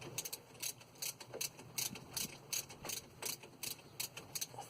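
A ratchet undoes a bolt on the brake of a 2001 Toyota Yaris, giving a rapid series of sharp metallic clicks in regular bursts with each swing, close up and without speech.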